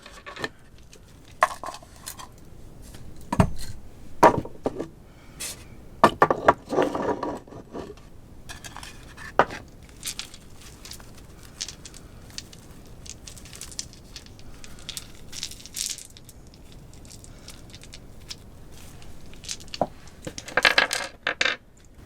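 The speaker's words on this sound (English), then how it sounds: "now let's get your charms and your dice." Small charms and dice are tossed and rattled for a Taurus tarot-style reading, giving repeated bright clattering bursts like coins dropping on a hard surface, scattered irregularly through the stretch with quieter shuffling between.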